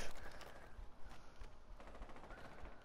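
Gunfire in the tactical shooter Rainbow Six Siege, including shots through a garage wall: a dense, continuous run of close, loud, sharp shot bursts with a rattling, rapid rhythm across the whole stretch.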